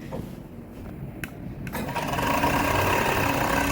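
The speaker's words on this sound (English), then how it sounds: "I don't mind going to my overlock to do the overlock and come back." An overlock sewing machine runs steadily while stitching a hoodie, a close continuous mechanical whir that starts after a few short bursts and then holds fairly loud and even, with no voices.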